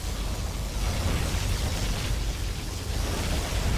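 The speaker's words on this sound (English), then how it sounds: "Particle Cannon hits the sneak." Particle Cannon blast striking in C&C Generals, a dense, sustained roar of broadband rumble with heavy low end, loud and unbroken for several seconds.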